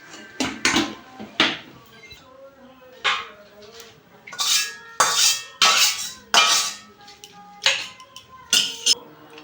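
A cooking pot lid is lifted off after spinach finishes boiling for paratha, giving a series of sharp metallic clinks and clatters at close range, several separate knocks spread across the moment with kitchen background noise between.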